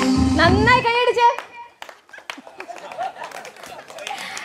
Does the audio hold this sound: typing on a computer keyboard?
no